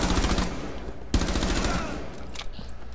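Rapid automatic gunfire in Rainbow Six Siege rattles loudly in a fast, even burst, with a sharp single crack just past the first second and a softer shot near the end.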